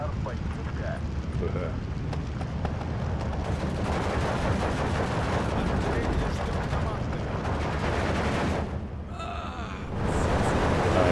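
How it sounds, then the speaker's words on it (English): Dense, continuous gunfire and explosions in the WW2 real-time strategy game Steel Division 2, loud and sustained throughout with a mortar barrage, and a speaker's voice running underneath. "Game's really loud now. I mean, the guns are always really loud."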